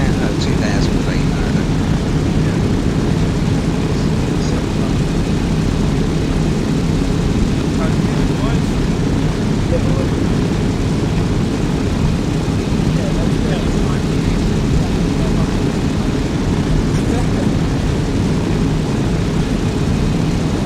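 Aeroplane engine droning steadily and loudly inside the aircraft on a parachute training flight, an unbroken close roar throughout, with people talking under it.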